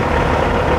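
A truck engine idles close by at a truck stop, giving off a loud, steady low drone with no voices.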